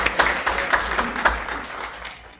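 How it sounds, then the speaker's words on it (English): Audience at a board of education meeting claps for a long-serving employee, a burst of rhythmic, fairly close applause that gradually thins and fades out by the end. "I'd love to give her a big round of applause for being such a dedicated employee"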